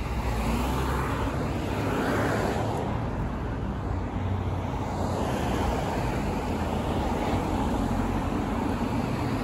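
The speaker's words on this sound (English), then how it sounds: "Got to wait here because cars are turning." Steady roadside traffic on Bathurst Street in Vaughan, Ontario, with cars turning at an intersection, a continuous engine and tyre rumble that holds at an even level throughout with no talking.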